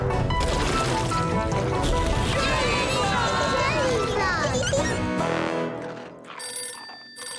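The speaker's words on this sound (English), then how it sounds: "Can somebody answer the phone?" A cartoon telephone rings amid a busy, loud scene of music and splashing commotion from a jelly flood in a children's animated show, the ring fading as the noise drops away near the end.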